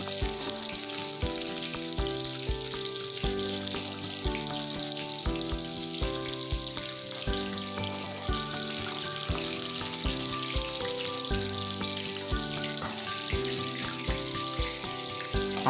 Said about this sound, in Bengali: আমাদের সমস্ত মাছগুলো ভাজা হয়ে গেছে, দেখতেই পাচ্ছেন। এবার মাছগুলো আমরা একটা পাত্রে তুলে নিচ্ছি।